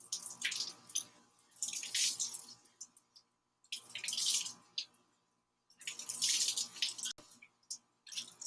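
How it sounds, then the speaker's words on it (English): Water splashes from an outdoor spigot in several bursts, each a few seconds long with quiet gaps between, as someone rinses their face close to the tap. "throw some water in my face real fast out of the spigot"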